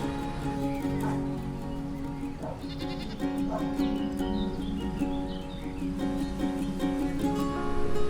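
Goats bleat on a hilltop farm that also keeps cows and horses, the calls scattered and fairly near over a bed of music, with some bird-like chirps in the background.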